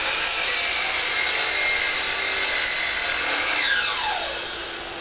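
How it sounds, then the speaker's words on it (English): A shop vac hooked up for dust collection roars steadily at close range while plywood is cut, a loud continuous hissing whine with a slight pitch shift near the end. "here we have a shop vac hooked up"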